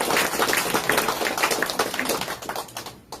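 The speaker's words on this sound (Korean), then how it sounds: "이건 박수 한번 쳐야 돼요." Audience applause at a presentation event, a dense wash of many hands clapping that stays steady and fairly loud before fading out at the end.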